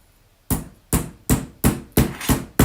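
A small hammer taps a jewelry bezel during riveting, giving six sharp, close metallic knocks at an even, steady rhythm with nothing else heard.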